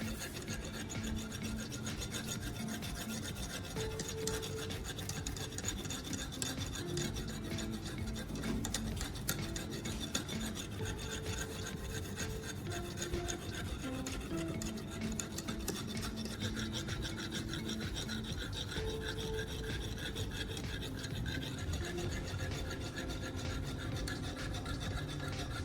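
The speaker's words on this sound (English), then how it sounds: "After using the coarse sandpaper, I'm switching to a finer grit. I'll repeat the sharpening process, ensuring the blade achieves a smooth," A knife blade is stroked over fine-grit sandpaper to sharpen it, making a continuous, quiet rasping scrape with an even back-and-forth rhythm that carries on throughout with no voices.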